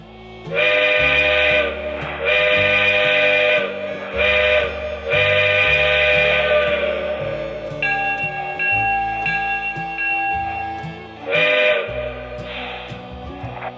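A loud, sustained multi-tone Lionel model train whistle blows in long repeated blasts with shifting pitch over a low rumbling background, close and steady.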